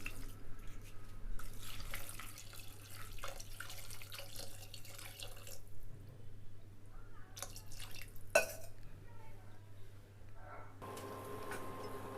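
Water poured into a pot while making thalicha gravy for biryani, a steady close running and splashing stream over a low kitchen hum, with a brief clink near the end.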